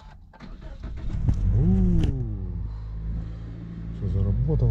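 A car engine cranks and catches, then settles into a steady idle, with a short voice near the start and again near the end.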